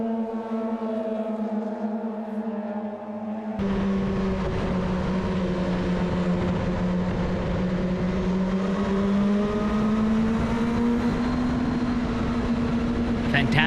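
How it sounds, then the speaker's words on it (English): Onboard a Radical race car on the opening lap at CARCO.com.au Raceway in a WA Sporting Car Club round: a loud, continuous engine drone that jumps up sharply and then shifts in pitch, with a commentator talking over it. "Fantastic perspective on board the Radical race car."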